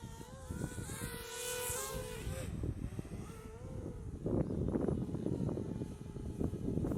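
A DJI Spark drone in sport mode passes by, its buzzing rotor whine rising and falling as it approaches and recedes, with wind rumble and a voice speaking over it.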